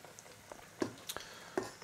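Apple rings frying in hot oil give off a faint, irregular crackle and sizzle with a few louder pops and spatters.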